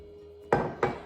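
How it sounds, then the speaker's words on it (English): Sangria poured over ice into a wine glass gives two sharp, close clinks of ice against glass about a third of a second apart, each ringing briefly, over a quiet kitchen background. "we're just gonna pour a little bit on ice in my wine glass here"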